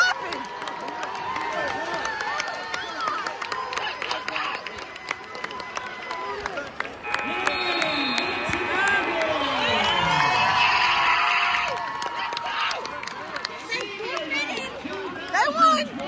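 Crowd noise at a basketball game: chattering and shouting voices with cheering that swells in the middle, scattered clapping underneath, and people talking close by throughout.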